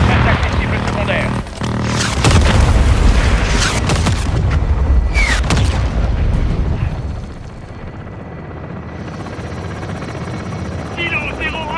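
Air strike explosions boom amid heavy helicopter rotor roar in the Call of Duty Modern Warfare 2 game, with deep blasts and bursts over constant noise and voices talking over the radio.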